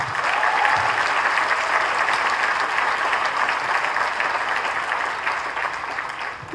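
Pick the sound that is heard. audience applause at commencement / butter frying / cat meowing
audience applause at commencement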